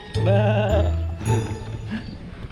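Goats on a farm bleat close by in two long, wavering calls, loud and clear with no talking.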